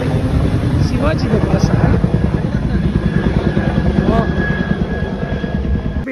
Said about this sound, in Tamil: ஹெலிகாப்டர் போகுதுங்க.